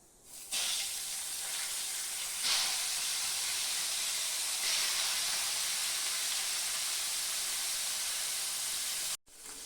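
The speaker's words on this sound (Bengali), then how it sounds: "তেলটা গরম হয়ে গেছে, আমি মাছটা দিয়ে দিব।" Fresh katla fish dropped into hot mustard oil in a pan, a sudden loud, steady hiss of frying that swells briefly at moments and continues strongly before cutting off abruptly.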